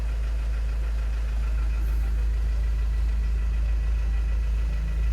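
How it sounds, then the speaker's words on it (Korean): A Kia Sorento engine idles steadily in a flood-damaged car after being started, a continuous low rumble with a faint mechanical ticking running throughout, close and even, with no talk. "네, 시동은 걸렸습니다"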